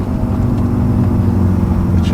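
A tuned 2016 BMW M5 with modified exhaust and intake drones steadily and loudly from inside the cabin, a constant low engine rumble with no break across the short stretch.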